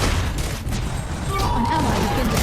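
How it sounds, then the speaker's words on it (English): Tower-destroying blast amid battle effects in the Arena of Valor video game: a dense, loud wash of booms and gunfire-like bursts that runs throughout, with a voice partly audible over it. "Your team has destroyed a tower."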